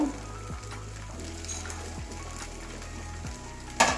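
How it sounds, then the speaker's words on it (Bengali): A cauliflower paratha frying in a pan makes a quiet, steady sizzle, with low thumps as it is moved and a brief louder clatter at the end. "ওই পাশটা এরকমই লাল লাল করে ভেজে নেব"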